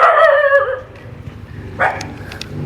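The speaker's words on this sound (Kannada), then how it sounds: "ನಾಯಿ ಬಗ್ಲುತ್ತೈತೆ ಬಂದಮೇಲೆ" At the Keshavanatha temple in Moodgallu, Keradi, near Udupi, a dog gives a few loud, close barks and yips in quick succession, followed by quieter whimpers against light background noise.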